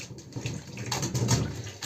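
Laundry is rinsed by hand in a basin of dirty water, giving a close, steady sloshing and splashing with no talk.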